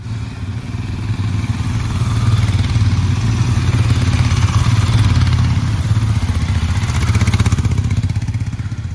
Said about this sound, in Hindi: तो यहाँ पे बाइकर्स का ग्रुप आ गया कोई